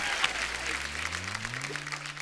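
An audience claps in a steady, moderately loud patter for a couple of seconds, with a low droning tone and some voice running beneath it.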